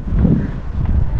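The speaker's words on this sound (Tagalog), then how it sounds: "Mahangin. Mahangin." Strong outdoor wind buffets the microphone in a steady low rumbling roar, loud and close, with no talking heard.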